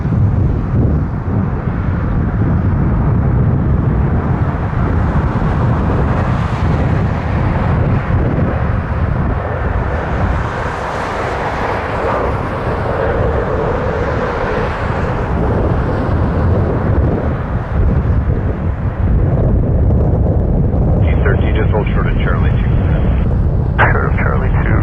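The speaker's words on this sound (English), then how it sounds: "Dreamliner, Air Canada 1087 from Orlando" Air Canada Boeing 787 Dreamliner jet at Toronto Pearson, a loud sustained rumbling roar that swells and rolls over about twenty-five seconds, ending with a higher whine near the close.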